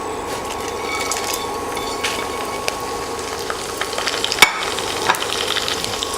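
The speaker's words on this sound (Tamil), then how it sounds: "இதை போட்டு நம்ம இப்போது ஃப்ரை பண்ணலாம்." Fennel seeds, mace, cloves and kalpasi frying in hot oil for prawn biryani, a steady close crackling sizzle with scattered small pops and a stirring scrape, no voices.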